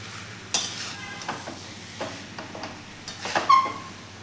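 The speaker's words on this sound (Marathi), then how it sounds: "आता आपण हा बटाटा यामध्ये घालून छान व्यवस्थित असं मिक्स करून द्यायचं आहे" Potatoes are stirred into a sizzling fresh spice paste in a pan, with soft scraping and occasional knocks of the spoon over a low steady frying hiss, close and fairly quiet.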